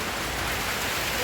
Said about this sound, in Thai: พี่น้องเอ้ยฝนตก